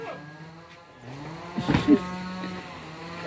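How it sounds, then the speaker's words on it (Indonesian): A goat on a Klaten farm gives a few short, wavering bleats midway through, fairly close, over a quiet background with some faint voices. "Ini kambing."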